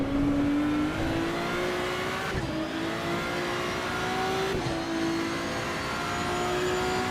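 In the Assetto Corsa Evo racing sim, a race car engine roars steadily and close, its pitch rising through the gears with two clear shift drops, alone without voices.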